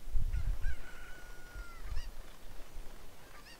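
A cucco chicken clucks and squawks in a Zelda video game, with a few honking calls at the start and a thin, drawn-out cry, all under a steady game-music bed.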